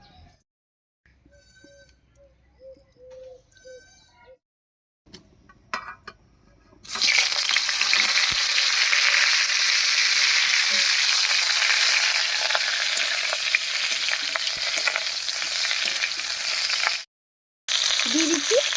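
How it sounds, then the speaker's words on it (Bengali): After quiet clinks and faint sounds, cauliflower hits hot mustard oil in a wok and a loud, steady frying hiss takes over for about ten seconds before cutting off abruptly. "এবার কড়াইয়ে সরষের তেল দিয়ে ফুলকপিটা ভেজে নেব।"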